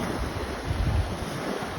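Ocean surf washes onto a beach under steady, loud wind buffeting the microphone, a continuous rushing roar with a slight swell in the middle.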